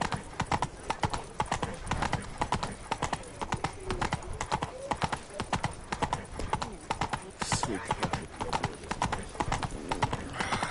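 Roach, the horse in the video game Witcher 3, gallops with rapid, steady clip-clop hoofbeats close by for the whole stretch, while a voice speaks over them.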